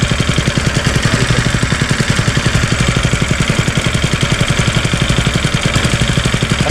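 Small engine of a farm spray machine running steadily at a constant speed, close and loud, with a fast, even chugging pulse and a faint rattle, and no talking.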